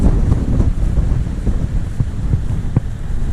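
Strong wind across open hills buffets the microphone in a constant low rumble, with occasional gusty thumps, loud and close.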